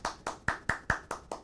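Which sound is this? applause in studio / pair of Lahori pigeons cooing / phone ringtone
applause in studio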